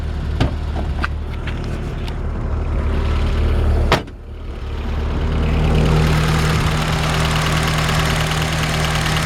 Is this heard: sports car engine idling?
yes